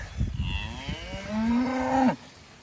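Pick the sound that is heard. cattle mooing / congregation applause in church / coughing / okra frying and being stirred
cattle mooing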